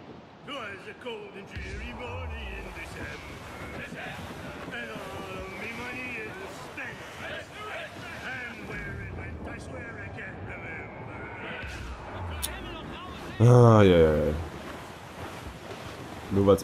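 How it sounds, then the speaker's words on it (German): A steady rush of wind and ocean surf accompanies a ship sailing in the video game Assassin's Creed Rogue. A low wash continues throughout, with a louder gust or splash near the end and faint voices underneath. "Nur weil es mal ein bisschen windet."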